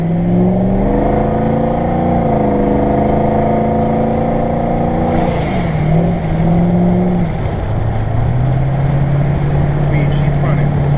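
A Ford 6.0 Powerstroke diesel truck engine runs loud and close, its droning note climbing and dropping as it revs and accelerates in a steady, continuous pull.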